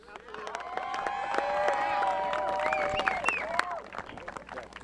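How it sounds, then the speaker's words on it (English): Crowd applause and cheering at a youth bantam football Superbowl event, clapping swelling and fading with whoops and whistles, voices talking over it. "can we give another round of applause for Georgia?"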